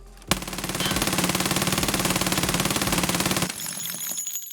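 Rapid sustained automatic fire from a Vector 9x19 with AP 6.3 ammo in Escape From Tarkov, a dense loud burst of evenly spaced shots lasting about three seconds, followed by clinking casings and a fading tail.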